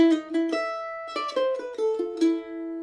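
A mandolin plays the opening phrase of the Brazilian choro Não me Toques, a quick run of bright picked notes in an uneven melodic rhythm, close and clear with no talking over it.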